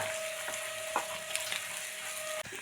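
Beef tripe (boti) fries in a pan with an even, moderate crackling sizzle and a few light stirring taps. A steady faint tone runs underneath and no one speaks.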